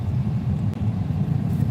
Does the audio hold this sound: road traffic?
yes